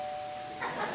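A quiz show answer bell gives a brief sustained ding with a clear steady tone, followed near the end by a slightly louder burst of sound.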